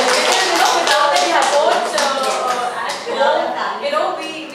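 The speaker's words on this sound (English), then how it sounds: "So one round of applause for them." An audience at a women entrepreneurs' panel discussion breaks into a round of applause, steady dense clapping filling the room for several seconds with voices mixed in.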